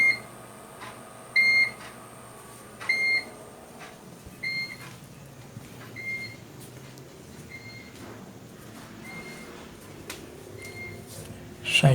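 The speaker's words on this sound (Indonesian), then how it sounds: "Alarm berbunyi, tanda PLN padam." Electronic alarm on a homemade UPS backing up household lighting, signalling a mains power outage with short, high, evenly spaced beeps repeating roughly every one and a half seconds over a quiet room hum.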